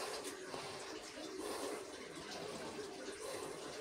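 Water runs steadily through a mountain channel, making a continuous soft, broadband rushing that stays even and fairly faint throughout.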